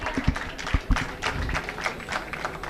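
Audience applause at a 15 August 2014 school Independence Day celebration: a burst of scattered, uneven hand claps and soft thumps that settles into a dense, moderately loud patter, with no talking.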